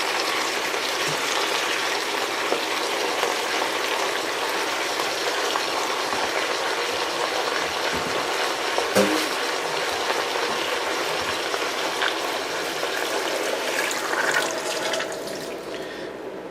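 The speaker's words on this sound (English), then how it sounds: "I'm going to go ahead and just fill it up to the top with cold water" Cold tap water runs steadily into a stock pot being filled to the top for Long Island duck stock, a continuous rushing splash throughout that softens near the end.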